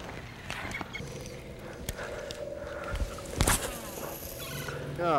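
A bird near a lake in Mexico gives a loud, rapid gobbling call from close by. It stands out over a low background of rustling and knocking.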